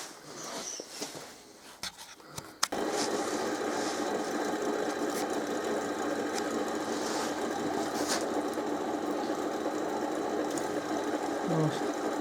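Power drill boring out a broken rear door hinge on a Peugeot Partner van: a few sharp knocks, then a continuous, close, high motor whine that holds steady to the end.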